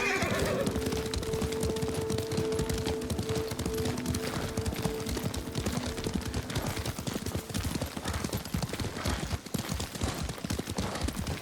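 In the video game Ghost of Tsushima, horse hooves clip-clop in a steady trotting rhythm throughout, with a horse neighing near the start and a low rumble of background ambience.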